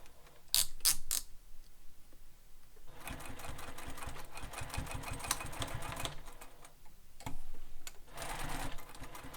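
A sewing machine stitches a sling pack in rapid, steady mechanical runs, near and fairly loud, with a pause between bursts and a few sharp clicks of handling before it starts.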